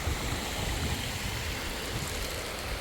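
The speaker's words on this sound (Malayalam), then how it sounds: "ഒരു ചെറിയ തോട് അതിലൂടെ ഒഴുകുന്നു" A small stream flows steadily nearby with a continuous soft burble, and no other sounds break through.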